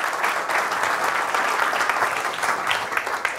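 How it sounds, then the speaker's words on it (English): Dense, steady audience applause for presenter Michael Towe after a talk on editing for production, many hands clapping continuously at an even level for the full stretch with no voices over it. "once again, a round of applause for Michael Towe"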